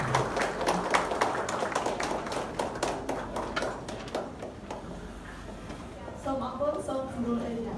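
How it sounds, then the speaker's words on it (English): An audience at a formal academic event stands and applauds, a dense patter of clapping that thins out gradually, with a voice speaking near the end. "please stand up and give round of applause"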